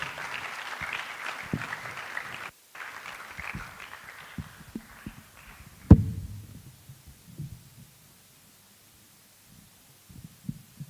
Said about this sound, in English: with a big round of applause, will you join me to welcome Professor Lartey to the talk?